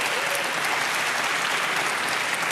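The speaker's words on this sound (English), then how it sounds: "applause for that" Audience applause fills a live young inventors prize ceremony, a dense, steady clapping from a sizeable crowd that holds at an even level throughout with no voices on top.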